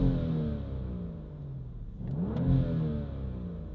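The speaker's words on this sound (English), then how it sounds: "the added noise of the blow-off valve, whooshing noise, is probably my favorite noise about the whole car." A modified 500+ wheel-horsepower, full-bolt-on BMW 435i turbo engine revs loudly and close by, dips briefly, then surges again as a short airy whoosh of the blow-off valve bursts over the engine note.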